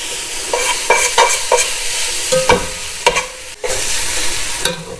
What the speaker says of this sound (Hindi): ये आपकी नूडल्स जो हैं वो फ्राई हो गई